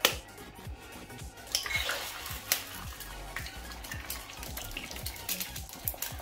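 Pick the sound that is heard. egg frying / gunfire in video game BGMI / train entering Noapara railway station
egg frying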